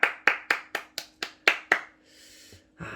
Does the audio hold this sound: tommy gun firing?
no